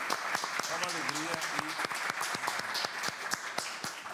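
A studio audience at the TV programme Trocando Ideias on Canção Nova breaks into dense, steady applause, close and lively, with a voice speaking briefly over the clapping.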